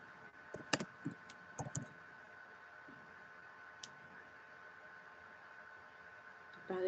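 Keys tapped on a computer keyboard while entering a school postcode, a few quick clustered clicks near the start, then a single faint tap and near-quiet hum.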